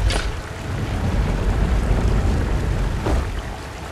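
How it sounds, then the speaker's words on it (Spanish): A waterfall parts open in the video game Ruined King, a steady, full rushing roar of water that swells slightly and holds, close and loud, with a couple of faint chimes. "Y se va a abrir la cascada esta"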